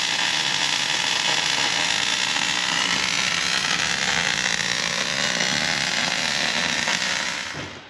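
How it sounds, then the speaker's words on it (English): Arc welding on a bulldozer's undercarriage tracks: a steady, loud, continuous crackling hiss that holds for several seconds before tapering off at the end. "Getting her all welded together in one piece."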